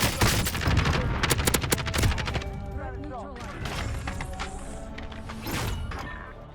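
Call of Duty Warzone gunfire in Verdansk: dense, rapid bursts of automatic fire and heavy impacts crowd the opening seconds, then thin into scattered shots among other in-game clatter and effects, loud and close throughout.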